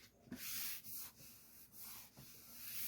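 Sanding on a motorcycle saddle bag being repaired for paint, heard as a steady, close abrasive rubbing. The strokes rise and fall in a loose rhythm, with brief dips between passes and no talking.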